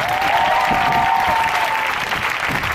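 A church congregation applauds in a steady, dense wash of clapping that lasts throughout, with a faint sustained tone ringing over it for the first couple of seconds.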